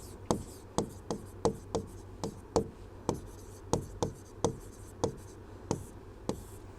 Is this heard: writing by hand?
yes